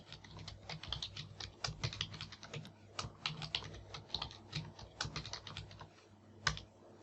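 Someone types on a computer keyboard, entering a new password in device settings, a quick run of close, crisp key clicks in irregular bursts, fairly quiet and with no talking.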